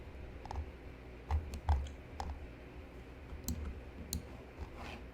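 Sparse, quiet mouse clicks on a computer running Fusion 360 3D modeling software, a handful of short sharp taps spaced irregularly over a soft background hiss, with no talking.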